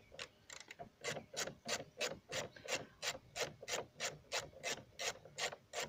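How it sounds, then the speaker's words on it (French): A bit driver turning out Torx screws on a 1993–1996 Ford Mondeo side mirror, giving a steady series of about fifteen short, evenly spaced rasping ratchet clicks, close and distinct with no talk. "il nous reste à enlever nos trois vis, enfin nos trois vis Torx"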